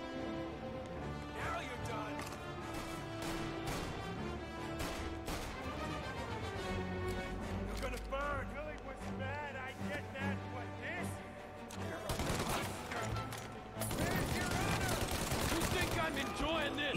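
Tommy gun bursts ring out in Mafia Definitive Edition, rapid dense volleys mixed with game music and effects, growing louder and busier near the end.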